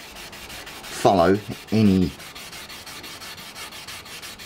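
A motorcycle fairing is hand sanded with a sanding block, giving faint, steady rubbing strokes that run throughout. Someone speaks briefly over the sanding.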